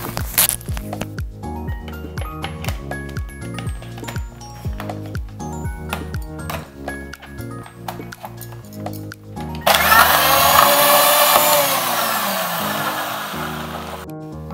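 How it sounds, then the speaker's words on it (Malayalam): Blender whipping apple, peanuts, sugar, two ice cubes and 200 ml of milk into a shake: background music plays at first, then a loud, close, steady whirring roar cuts in partway through and gradually eases off. "ഇതെല്ലാം കൂടി ഒന്ന് നല്ലോണം അടിച്ചെടുക്കാം"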